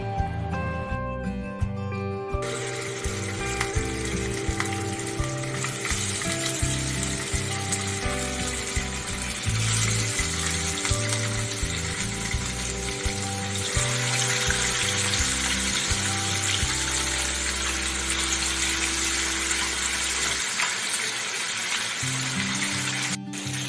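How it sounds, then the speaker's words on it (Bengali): Katla fish fry in oil in a pan for a Bengali light curry, giving a continuous moderate sizzle and crackle over a steady tonal musical backdrop, with no talking. "এবারে মাছ ভাজার জন্য আরেকটু তেল দিয়ে দিচ্ছি।"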